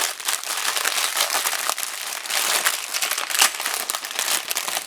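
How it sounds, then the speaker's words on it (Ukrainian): Continuous crinkling and rustling of plastic bags being handled and torn open on a parcel of Lego figures, close up, with no voices. "Я відкрив пакет, у якому ще пакети."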